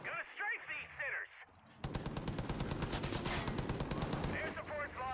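Air support strafing in Far Cry 5 opens up as a long, rapid burst of heavy automatic gunfire, loud and continuous for several seconds, with a voice talking briefly before and after it.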